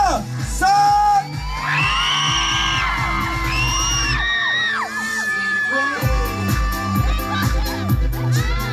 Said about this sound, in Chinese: 来，手举高，我数到三就尖叫声哦